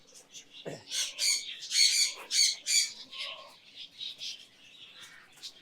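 Racing pigeons in a loft give a run of overlapping squawking and cooing calls, loud and close, rising and falling in a steady chatter for several seconds.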